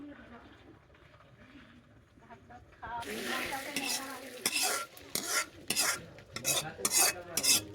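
A spoon scrapes and stirs through spiced khichuri in a cooking pot, quiet at first, then louder with rhythmic scraping strokes and a soft sizzle, while a voice talks nearby.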